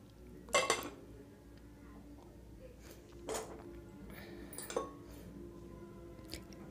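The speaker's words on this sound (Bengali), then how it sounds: "এই দেখুন কিরকম আওয়াজ হচ্ছে, কিরকম মচমচে।" Crispy fried bread pakoras being broken apart, with a few sharp, close crackling crunches spaced out over a quiet background.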